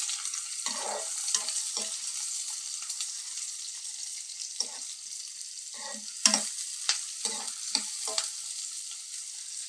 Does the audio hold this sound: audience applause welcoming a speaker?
no